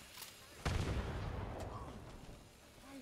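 A grenade goes off in the Fallout 76 video game, one sharp blast followed by a rumbling roar that slowly fades, with a voice talking over it.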